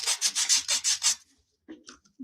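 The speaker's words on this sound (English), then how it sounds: "When I'm sanding, I pull it towards me" Sandpaper rubs over a painted wooden carrot-patch arrow door hanger in seven quick rhythmic strokes pulled toward the worker, close and crisp, then a pause and a few faint scuffs.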